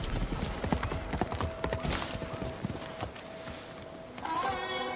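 Horse hooves clip-clop in a quick, continuous rhythm as a rider travels in the video game Ghost of Tsushima, backed by faint ambient game sound and a brief chime near the end.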